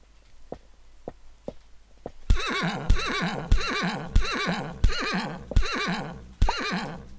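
A horse in the Minetest game Mine Clone 2 gives a loud, close whinny after a few soft clip-clop steps, the neigh stretching out with a regular pulsing rhythm for several seconds.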